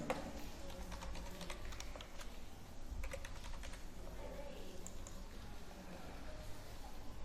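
Typing a password on a computer keyboard, with a steady run of quick, light key clicks and occasional sharper taps over a low room hum, close and moderately quiet.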